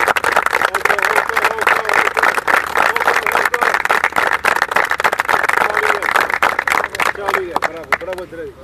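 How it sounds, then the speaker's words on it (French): Players of the Hassania Agadir football team applaud together, a dense continuous patter of hand claps lasting throughout, with voices mixed in and a few spoken words near the end. "Les applaudissements très vite."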